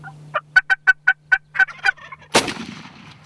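A wild turkey gobbles in a rapid burst of about eight sharp calls, close and loud, among hunting decoys, followed by a sudden loud bang with a trailing echo.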